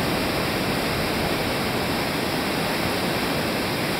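A large waterfall roars steadily and loudly up close, a dense unbroken wash of falling water at a natural cascade.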